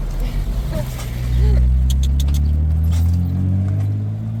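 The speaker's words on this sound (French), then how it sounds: "Oh, belle bagnole là, putain." A car driving past on a country road, its engine swelling into a close rumble and then passing, with a few light rattling taps.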